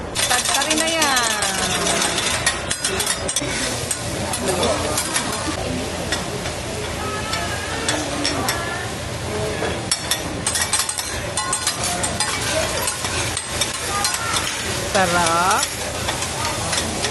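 Fried rice with egg is stirred in a hot pan, with repeated scraping and clinking of the utensil over a constant loud sizzle, and a voice speaks briefly.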